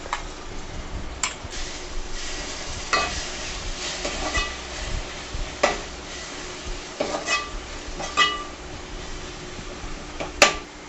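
Onions with green chillies and masala paste cook in a pan for mutton keema, giving a soft sizzle broken by intermittent scraping and stirring strokes.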